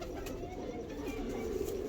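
A pigeon kept by a breeder gives soft low coos, faint and close against a quiet background hum, with no talking.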